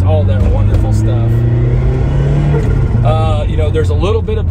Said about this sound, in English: this car, one thing I love, it sounds like a Group B rally car. I mean, it just has all those bangs and pops